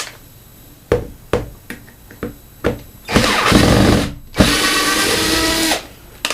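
Cordless power driver removing a screw from a radiator bracket: several short clicks and knocks, then two long whirring runs of the driver separated by a brief pause, close and fairly loud with no talk.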